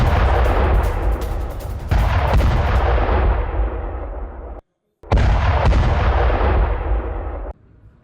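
Artillery fires during the Russia-Ukraine war in news footage: loud, close booming blasts that roll into long rumbling tails, with a sudden brief gap of silence midway and no talking.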